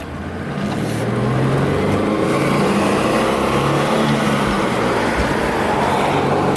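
A 1990 Ford Thunderbird Supercharged SC Anniversary Edition with a manual gearbox accelerates hard, its loud, steady engine roar building quickly and then holding for several seconds close to the microphone.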